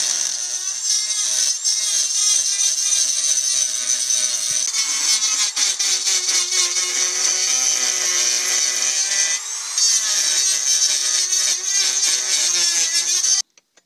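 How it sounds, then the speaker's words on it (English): Continuous high-pitched grinding and rasping from a power tool trimming a sand-cast aluminum part, loud and close, running steadily for over ten seconds before cutting off. "A little more trimming around there."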